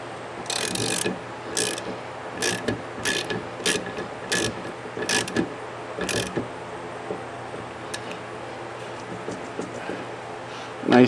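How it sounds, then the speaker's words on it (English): A ratchet wrench tightens the nut on the rear windshield wiper arm of a Ford Edge, giving a series of quick, close clicking bursts in uneven strokes with brief pauses between them. "And we put the nut back on that. And we tighten it down."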